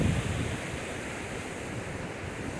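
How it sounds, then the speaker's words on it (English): Flash-flooding creek water in Geary County, Kansas, surging over its banks near a community center bridge as a tributary pours in; a steady, loud, broadband roar of rushing water with no voices. "We have a tributary over here that's still dumping a ton of water in."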